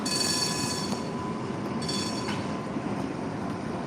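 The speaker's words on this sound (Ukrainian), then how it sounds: "Один трамвай виїжджає." A tram pulls out of its depot, wheels squealing high and metallic in several drawn-out bursts over a low rolling rumble, heard from a moderate distance with no talking.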